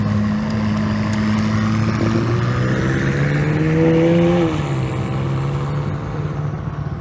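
An entry-level McLaren supercar engine roars and accelerates, its pitch climbing through a gear, then dropping briefly before pulling again, loud and close.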